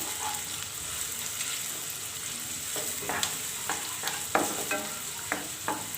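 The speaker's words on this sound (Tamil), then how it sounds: "வெங்காயம் நல்லா வதங்கி வரட்டும்." Onions sautéing in sesame oil for a tamarind okra curry, a steady close sizzle with scattered stirring scrapes and clinks of a spoon against the pan, no voices.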